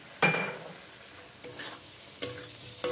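Chopped tomato hits hot oil in a pan for a katla fish curry, giving a soft sizzle broken by several sharp stirring or spatula clicks spread over a few seconds.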